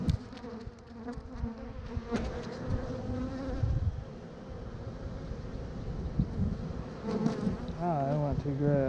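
Honey bees buzz around an open hive during a spring cleanup and box rotation, a close dense hum with wavering individual bee tones, mixed with light wind noise and some handling rustle.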